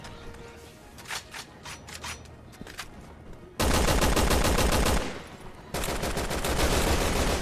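Gunfire in the Resident Evil 6 video game: a few scattered shots, then loud, dense automatic bursts that pause briefly and resume.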